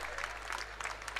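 Audience applause at a Haryana political rally welcoming a former chief minister, a steady wash of clapping throughout with a low hum beneath, fairly distant and moderate in level.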